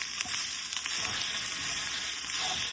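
Chicken fried rice sizzles steadily in a hot pan while being slowly stirred and mixed, a continuous close frying hiss with faint scraping throughout and no voices.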